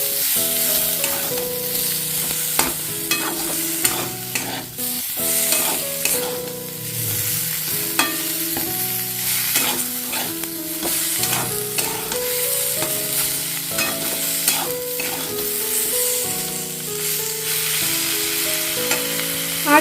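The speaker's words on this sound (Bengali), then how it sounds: "এবারে আমি এর মধ্যে একটা কেটে রাখা টমেটো অ্যাড করে দিচ্ছি এটা দু তিন মিনিট আমি কষিয়ে নেবো" Chopped tomato sautéing and being stirred in a pan while vegetarian dalia khichdi is cooked, a steady close sizzle broken by repeated scraping stirs, with a tonal music-like layer running underneath throughout.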